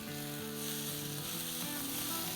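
Chopped tomatoes hit frying onions in a pan for a prawn pulao, giving a steady close sizzle with soft stirring scrapes and no talking.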